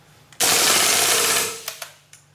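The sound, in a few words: airsoft KWA KRISS Vector BB gun firing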